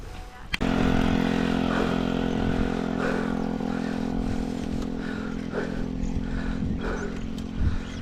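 A motorcycle engine drones nearby, rising after a sharp knock and holding steady as it rolls past, with faint rattles and clatter over the rumble.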